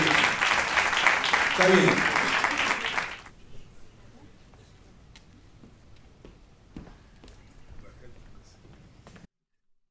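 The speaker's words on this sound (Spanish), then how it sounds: "por favor, también un fuerte aplauso" An audience at a choral gathering bursts into loud, dense applause for about three seconds, then it cuts off to a quiet hall with scattered small knocks and shuffles; a voice speaks briefly.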